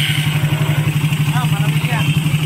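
A cold motorcycle engine, just fitted with new valves, runs in a steady fast chugging idle close by, while a person talks over it.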